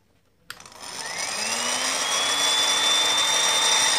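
Industrial heat gun powered up on a repair bench, switching on with a click and then a steady, loud blowing whir whose whine rises in pitch as the fan spins up and holds.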